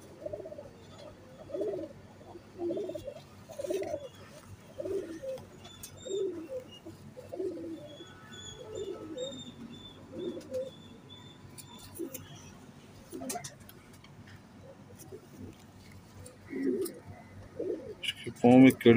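Soft, low coos of Salary Teddy pigeons repeat in gentle rounds, with faint chirps and a voice speaking quietly in the background.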